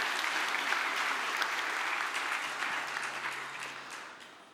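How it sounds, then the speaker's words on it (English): An audience applauds at a tech conference talk, a steady dense wash of clapping that swells briefly then gradually fades toward the end, with no voices over it. "please give yourself and others a round of applause"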